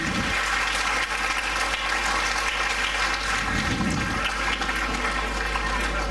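An audience at an Onam celebration welcomes performers with steady, dense applause that fills the hall and holds at an even level throughout, over a low background hum.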